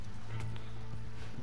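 Horse hooves from a horse ridden in Red Dead Redemption 2, heard as a brief run of soft clip-clops over a low steady game drone, with no voice over them.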